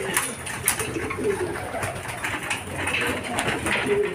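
Racing pigeons coo and flutter continuously up close while they feed at a loft, a dense, steady chorus with occasional sharp higher calls.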